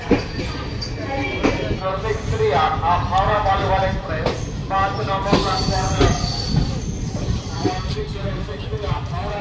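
A Haldibari express pulling into platform 5 at New Jalpaiguri station, with steady rolling rumble, wheel squeal and clanking carriages under continuous nearby talk and platform chatter.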